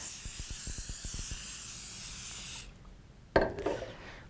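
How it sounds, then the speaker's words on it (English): Cooking pan spray misted over biscuits on a half sheet pan: a steady, close hiss with faint taps for about two and a half seconds, then a quiet pause and a sharp clunk near the end. "Lightly apply pan spray to biscuits."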